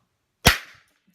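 A toy flea circus cannon fires with a pull of its rope, a single sharp crack close by that decays quickly into silence.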